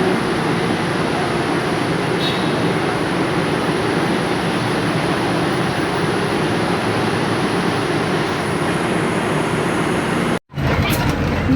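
Steady rumbling ride noise fills the clip, like the inside of a moving MRT metro train, with a brief dropout near the end.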